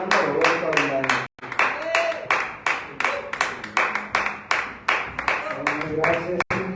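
A church congregation at a Sunday evening service claps in steady rhythmic beats for several seconds, loud and close, with a brief pause partway and voices murmuring underneath.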